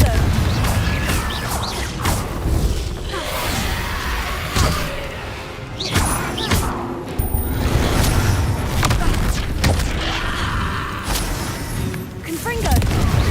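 Repeated Confringo fire-blast spells from the Hogwarts Legacy video game, thumping booms and crashing impacts recurring every few seconds amid dense game noise, with a voice speaking over them.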